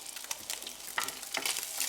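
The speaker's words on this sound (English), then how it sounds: "wait for the butter to melt and start to sizzle" Butter sizzles and crackles steadily in a hot frying pan, a close, soft hiss with small irregular pops and no voices.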